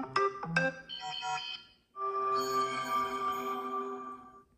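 A Samsung Galaxy S24 plays an SMS notification tone as a preview, with a short chiming melody followed after a brief pause by a longer sustained bright tonal phrase, close and clear with no talking.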